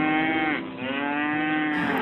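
Cattle on a farm moo in a long, loud, sustained low bellow lasting about two seconds, with a rising and falling harmonic tone and no talk over it.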